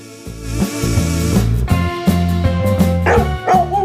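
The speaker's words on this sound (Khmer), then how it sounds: "អូយមើលឆ្កែមួយនោះវាធាត់ណាស់" A dog barks in a short series of bright, loud yips set against a cheerful backing melody, a few evenly spaced woofs up close.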